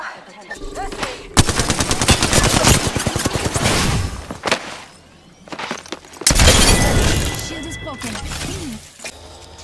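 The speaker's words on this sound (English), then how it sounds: "Broken enemy shield." Enemy shield shattering in the video game Apex Legends, a loud crackling break amid dense rapid gunfire bursts, with two heavy clusters of firing and game noise throughout.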